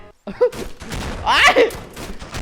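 Gunfire from a modded gun in the video game Minecraft, a burst of loud rapid shots near the middle with a short sharp pop before, set against background game noise and a voice.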